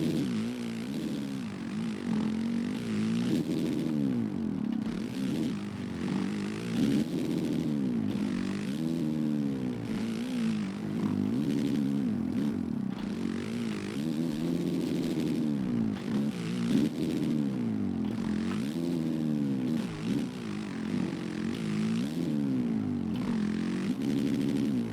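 A motocross bike engine in the video game MX vs ATV Legends, a loud buzzing drone that revs up and down continuously as the rider shifts and accelerates around the track, with no talking.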